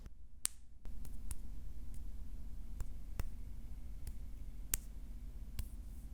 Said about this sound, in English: light slapping is not fight sound design